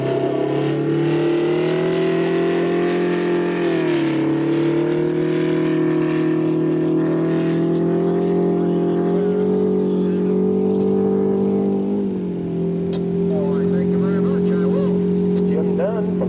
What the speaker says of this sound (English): This is a 284 cubic inch Detroit diesel and a 1986 Toyota truck